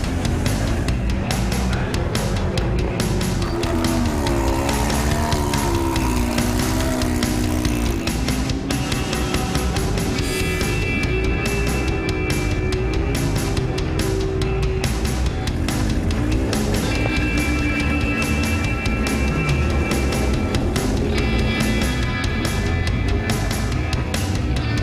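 A vintage race car heads out onto the Lime Rock track at a vintage festival, its engine loud and close, revving continuously with pitch climbing and falling through the gears, no talking.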